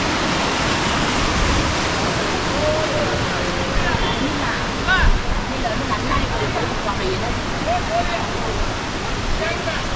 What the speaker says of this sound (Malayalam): വെള്ളം ഒഴുകി പോകുന്നുണ്ട്